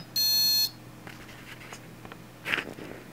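A brushless ESC running SimonK firmware, powered from a 12-volt battery with an Arduino, gives one clear half-second electronic tone on power-up, followed by faint soft clicks in a quiet room.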